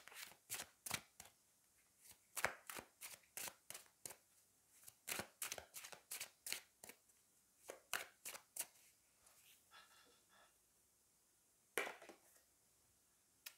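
Tarot cards shuffled in quick riffling bursts of crisp flicking slaps, close and quiet, followed by softer handling as a card is drawn.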